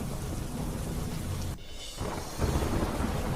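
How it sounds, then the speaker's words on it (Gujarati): Heavy monsoon rain pours steadily during floods in Kozhikode, Kerala, with a deep rumble of thunder rolling underneath. The downpour stays loud and continuous, with a brief dip partway through, and no one speaks. "કેરળમાં મેઘતાંડવ કોઝિકોડમાં ભારે વરસાદથી પૂરના દ્રશ્યો સર્જાયા"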